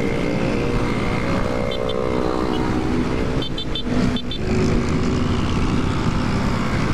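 Motor traffic on a highway heard from a moving motorcycle, a dense continuous engine and road roar with wind rush, louder passing surges midway and a few faint high tones.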